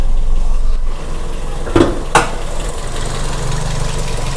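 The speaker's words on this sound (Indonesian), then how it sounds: "Suara mesinnya masih halus banget." A 2006 Toyota Vios with a 1500cc VVT-i engine idles with a steady low rumble, joined by a couple of brief clicks or knocks midway through.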